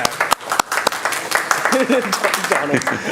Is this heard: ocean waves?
no